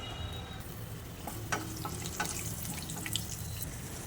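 Cumin, mustard seeds and curry leaves crackle and sizzle in hot oil in a pan, a steady frying hiss with a few sharper pops, close and alone without talk.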